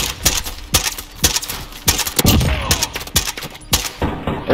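Rapid, evenly spaced gunshots from a 10-round magazine gun in a video game, a dozen or so sharp loud cracks in quick bursts, close and punchy, with faint talk mixed in.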